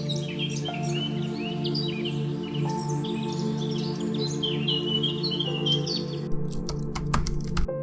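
Migratory birds in Bangladesh: scattered chirps and calls over a steady low hum, with a burst of sharp clicking and tapping toward the end, no voices.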